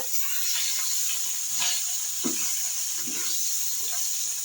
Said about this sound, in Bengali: এখন মশলাটা ভালোভাবে কষায় নিব